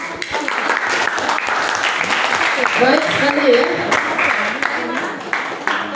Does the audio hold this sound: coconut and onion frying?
no